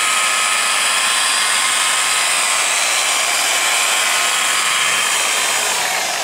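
A car polishing machine with a very fine foam pad running a light final pass on paintwork, a steady, loud, even whir that holds unbroken throughout.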